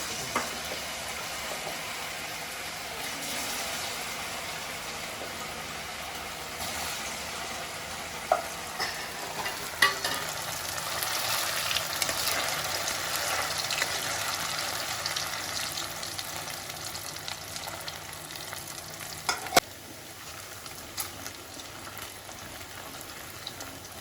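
Continuous oil sizzling and crackling from taro pieces frying, with occasional stirring clinks, steady and close throughout.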